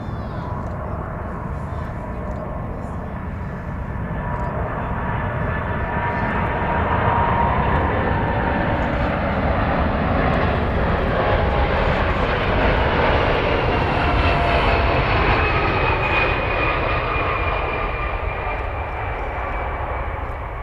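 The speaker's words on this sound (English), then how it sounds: "Atlas Air, operating on behalf of UPS, I believe. It's Atlas Air Flight 676, coming in from Anchorage" An Atlas Air Boeing 747-400 cargo jet landing at DFW Airport after a flight from Anchorage gives a loud, sustained engine roar with a rising whine that fills the whole stretch and swells slightly midway.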